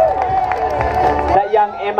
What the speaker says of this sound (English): Let me get some cheer squad happening.